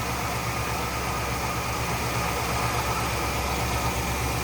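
The 455 Rocket V8 in a 1976 Oldsmobile 98 Regency idles smoothly, producing a close, unchanging low drone layered with steady mechanical hiss and no speech.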